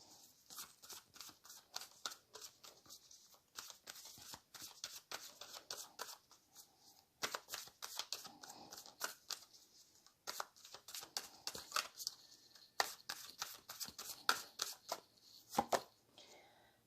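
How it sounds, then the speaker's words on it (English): Whispers of Love oracle cards being shuffled by hand, a faint, close series of quick papery riffles and flicks in irregular bursts with brief pauses between them, no talking. "let's pull a Whispers of Love Oracle card by Angela Hartfield"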